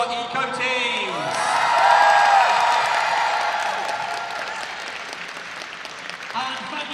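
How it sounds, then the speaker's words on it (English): At a cosplay masquerade, a large indoor audience breaks into sustained applause with some cheers and whoops, swelling to a peak and then tapering off, with an amplified voice speaking over the start and end. "One big final round of applause for our eco teams."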